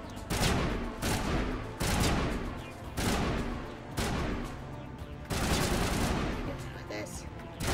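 Gunfire in the Mass Effect Legendary Edition video game: loud, rapid bursts of automatic shots in several sustained volleys, each separated by brief pauses.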